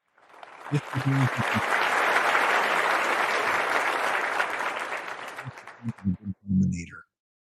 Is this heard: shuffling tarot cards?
no